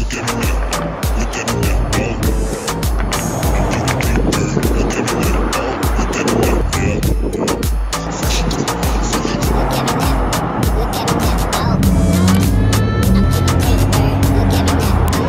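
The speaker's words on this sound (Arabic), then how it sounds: "هذا صوت السياره الستوك،" Stock Corvette V8 before an exhaust change, a loud, rough engine roar with rapid throttle blips and a heavier rev toward the end, recorded close up under noisy, clattering background.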